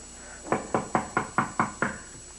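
Seven firm, evenly spaced knocks on a door by police, near and loud against a quiet room, with no talking.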